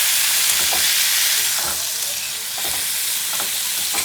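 Finely chopped pumpkin sautéing in hot oil, a loud, close, continuous sizzle with broadband hiss and occasional stirring scrapes, no voices.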